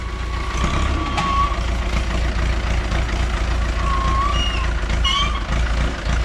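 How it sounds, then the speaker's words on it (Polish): Farm machinery inching out of a cramped shed, heavy engine rumbling steadily up close with a few faint high beeps and squeals over it. "I sprzęt wyjeżdża teraz właśnie o ile wyjedzie"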